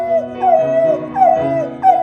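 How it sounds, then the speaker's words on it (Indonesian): A dog howls in rising, wavering, sustained tones, repeated three times in close succession, loud and near with no talk. "melolong dan bernyanyi adalah bagian dari kebiasaan alami anjing"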